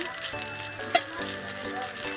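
Vegetable chow mein sizzling in a pan, a steady frying hiss with faint clinks and stirring sounds, one brief sharp knock near the middle, moderately loud and close with no talking.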